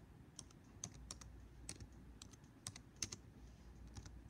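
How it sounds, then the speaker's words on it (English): Typing on a computer keyboard, a light irregular patter of key clicks at moderate distance, faint and alone over a low room hum. "So you're going to type in"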